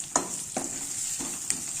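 Garlic, green chillies, chilli powder and turmeric frying in a pan for carrot dal, a steady close sizzle with a few sharp stirring scrapes and clinks spaced through it, no talk.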